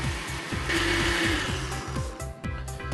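A countertop blender whirs steadily while mixing crepe batter, a continuous close motor hum with pulsing rhythmic churning that holds at an even loudness for about three seconds, with no talk over it.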